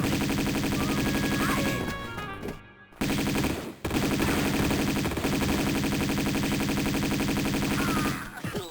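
Enemy gunfire in Tomb Raider II at the Barkhang Monastery, loud rapid automatic bursts that run almost continuously, with a brief gap of near silence partway through before the shooting resumes.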